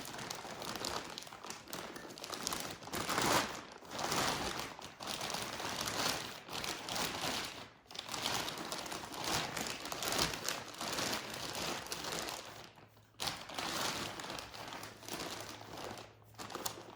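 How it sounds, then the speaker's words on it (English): A thick plastic bag crinkles and rustles continuously while an Astro-Physics Mach2GTO telescope mount is unboxed. The handling noise is close and steady, with brief pauses. "Really thick plastic bag."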